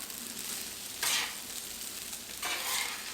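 Egg and rice shrimp stir fry with vegetables gets mixed on a Blackstone griddle: a steady close sizzle, with two louder scraping, stirring bursts of the spatula on the flat top.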